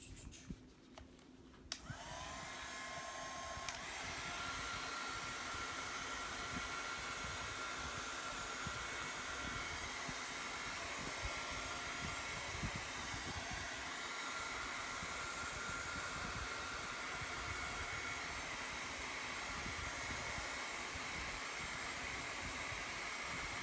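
A dryer blowing on freshly applied craft color starts with a click and then runs as a steady, loud, continuous whooshing hum close by, with no talking.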